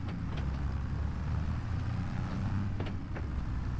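Crude old tractor engine in a logging roleplay video game, a steady low rumble running throughout at moderate level, with a few faint clicks and knocks over it.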